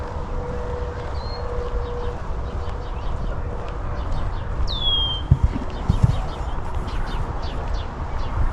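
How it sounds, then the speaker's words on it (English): A single red-winged blackbird's buzzy, rising call rings out over a constant low roar of distant city road traffic, with a faint tone and a few thumps nearby. "Red-winged blackbird, I believe."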